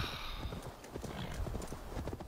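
Horse hooves clip-clopping steadily in Assassin's Creed Valhalla, a continuous close rhythm of hoof strikes over ambient game sound, with a faint whinny.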